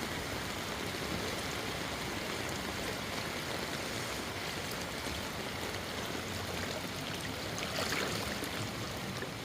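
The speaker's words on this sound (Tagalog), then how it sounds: "lakas ng agos yung" Floodwater rushes through a village street in Cainta during Typhoon Carina, a strong current making a steady, loud wash of turbulent water that holds even throughout, with no one speaking.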